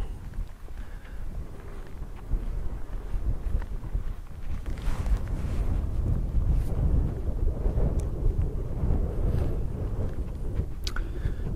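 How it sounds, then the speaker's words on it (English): Wind buffets the microphone on an outdoor footpath on the Isle of Man, producing a loud, continuous low rumble with gusty surges throughout and no voices. "It's a bit windy, but the breeze is lovely and warm."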